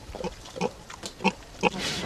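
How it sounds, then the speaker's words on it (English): A pig grunts in a series of short, snuffling oinks spaced about half a second apart, close by and fairly quiet. "They're flaming pigs, not goats."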